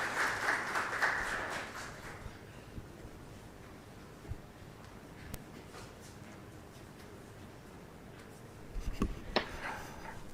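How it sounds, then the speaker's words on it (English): A short burst of clapping from a small group at the start, fading out into quiet room noise, with a few scattered claps later. "Can we give a clap for the all representatives?"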